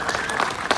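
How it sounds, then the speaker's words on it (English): A brief burst of crowd applause at the grand opening ceremony of a Splitsville bowling and entertainment venue in Anaheim, loud and close with a faint tone running underneath. "So how about a huge round of applause?"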